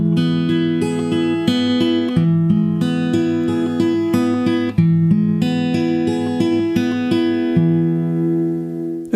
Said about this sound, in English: We're getting started with pattern number 1, a basic arpeggio pattern.